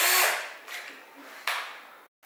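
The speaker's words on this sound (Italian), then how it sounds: "Facci vedere come premi quel trapano." A handheld power drill whirs loudly in a short burst, then fires again in two briefer pulls with pauses between, ending in a moment of silence.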